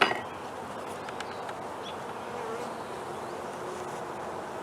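A honey bee swarm gathered from a catch hums loudly and continuously while its comb is moved into a box, a dense, steady insect drone close at hand.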